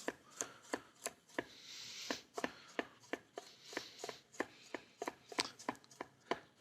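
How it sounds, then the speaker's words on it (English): A knife chops steadily on a cutting board, about two crisp strokes per second, close and clear with no talking. "I'm going to cut them on a long bias"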